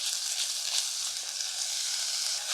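Bulgogi-cut beef stir-fries in a pan over lowered heat, giving a steady, close, bright sizzle throughout, without speech.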